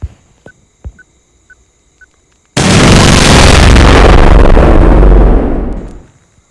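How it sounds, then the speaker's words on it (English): A TNT bomb going off in the fireworks game Firework Mania: a few small pops, then a huge sustained blast roaring loudly for about three seconds before cutting off. "This is gonna be a big explosion, JJ."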